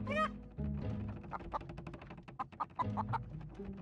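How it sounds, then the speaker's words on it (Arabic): Chickens cluck in a video game, with repeated short, mid-pitched clucks and fowl calls over a low game soundtrack, fairly faint, along with intermittent soft thumps. "هم دجاجة."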